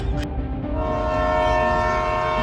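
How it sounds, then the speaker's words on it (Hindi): A train starts and begins moving off slowly, a loud sustained horn-like whistle tone over a low rumbling engine, close and continuous. "और फिर ट्रेन का ड्राइवर दोबारा से ट्रेन को स्टार्ट करता है और धीरे धीरे आगे बढ़ाने लग जाता है।"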